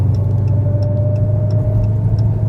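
A Dodge Hellcat engine drones loud and steady from inside the car while driving, a constant low rumble with a faint high whine over it and no voices.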